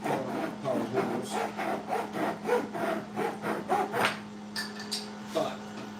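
Hand saw blade cutting through wood with steady, rhythmic back-and-forth strokes, close and clear, the rasping pulses slowing near the end under a faint steady hum.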